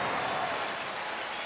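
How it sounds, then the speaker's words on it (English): Baseball fans in a stadium applaud a diving stop by the second baseman during a Reds versus Cardinals game, a dense, steady wash of clapping from a large crowd, loud and continuous for a second and a half. "And the fans applaud the effort from Brendan Donovan."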